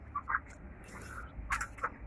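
Laying hens and creole hens in a backyard coop give a few short, scattered clucks against a quiet background, with no one speaking.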